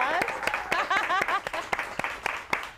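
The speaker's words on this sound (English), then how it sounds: "Give a round of applause." Studio audience applauding during a live broadcast from a historic television studio, a steady patter of many hands clapping with voices and cheers mixed in.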